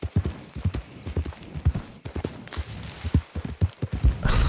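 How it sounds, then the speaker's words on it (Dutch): Horse hooves clip-clop at a steady walking rhythm in the Red Dead Redemption 2 video game, close and fairly loud, with a brief breathy snort near the end. "spring eens op het paard"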